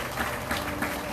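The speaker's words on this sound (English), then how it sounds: "I think he needs a round of applause." Steady round of applause from an audience at a Ganesh Utsav celebration during a Shri Ganesh Puran yagna night; the dense clapping stays fairly even throughout with no voices on top.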